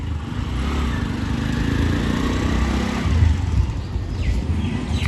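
A CNG auto-rickshaw's small engine runs steadily as it is driven, a buzzy mid-pitched drone with slight rises in revs as gears are changed, continuous throughout.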